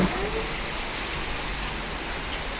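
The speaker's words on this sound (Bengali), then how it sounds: "হ্যাঁ বৃষ্টি হচ্ছে হোক বৃষ্টি আরও শান্তি নিয়ে আসুক" Rain pours steadily in Dhaka as a dense, even hiss of drops close by, with a few brighter spatters on a surface and no speech.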